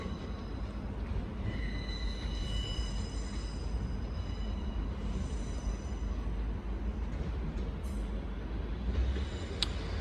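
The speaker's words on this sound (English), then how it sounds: "And arriving now is the 1725 Northern service from Metro Centre to Stockton." A Northern train, a class 156 unit, pulls into Newcastle station with a low, steady rumble and faint squealing tones from the wheels, heard from the platform at moderate distance.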